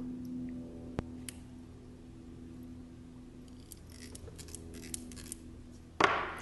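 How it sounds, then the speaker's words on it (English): Small sharp clicks from a ball bearing in the aperture ring of a Minolta Auto Rokkor-PF 55mm f2 lens, spaced out over a quiet steady hum, ending in a brief louder rattle near the close. "a little ball bearing right here on this side that makes the clicking sound"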